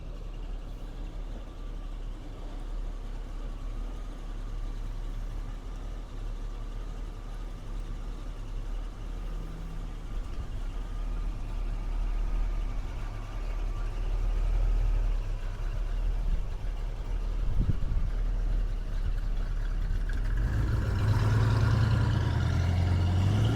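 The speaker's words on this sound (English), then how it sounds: "let's go ahead and take this one for a drive." A 1986 Chevrolet C10 Silverado pickup drives on an Atlanta road, its engine a steady low drone from inside the cab that builds slightly louder toward the end, with no talking.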